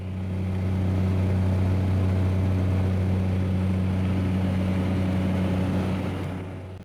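A bush plane's propeller engine drones steadily in flight over the Arctic, a loud, constant low hum with a strong tonal throb heard from inside the cabin.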